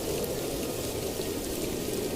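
Heavy evening rain with water leaking and dripping through a house roof, a dense continuous hiss of downpour filling the space, steady and loud throughout with no voices.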